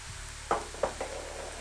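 Rice wine and chili flakes go into a hot pan for a vegan Korean soft tofu stew. Two or three sharp, close sizzles and clinks sound over a low background hum, with no talk.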